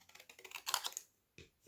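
Regular scissors snip through paper in a quick run of crisp close cuts, then a pause and a couple more isolated snips, with no talking.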